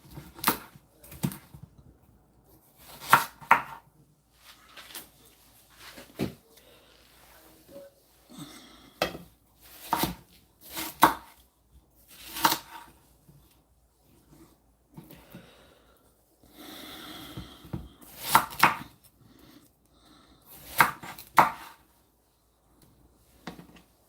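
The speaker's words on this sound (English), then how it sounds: "There's no rule to cutting watermelon. Just put your knife in." A knife slicing through a freshly washed, very juicy watermelon: a series of sharp, crisp cuts and cracks spaced unevenly, close and fairly quiet, with soft wet crunching between strokes and no talking.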